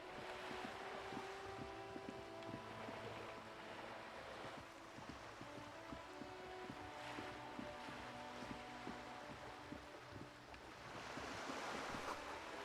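Sea waves lapping at a cold shoreline in the video game Disco Elysium, a soft continuous wash of surf and wind with a faint low tonal ambient bed, steady and distant, no voices.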